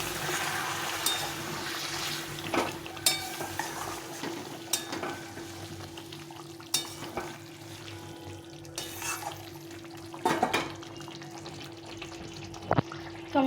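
Quiet kitchen sounds of mutton curry cooking in a pan: a low steady simmer with intermittent clinks and scrapes of a spoon stirring against the metal, close and fairly faint.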